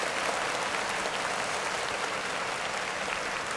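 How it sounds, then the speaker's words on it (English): Steady, even clapping from an audience on a podcast-style show, a continuous wash of hands with no voices clearly standing out. "Clap it up for new music."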